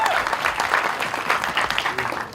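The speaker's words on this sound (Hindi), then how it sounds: "सरीबाजी के लिए एक बार जोरदार ताली होनी चाहिए।" A crowd at a Hindi film promotional event for a Sunny Deol war film bursts into loud applause, dense overlapping claps with some cheering mixed in, filling the room steadily from start to finish.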